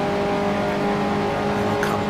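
Racing car engines drone loudly and steadily in a racing video game, a Maserati among the pack, with a sustained tonal engine note that holds throughout.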